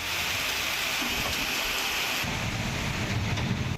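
Steady heavy monsoon rain pours down in a dense, continuous hiss over flooded streets in Gujarat, with a low rumbling wash joining in partway through.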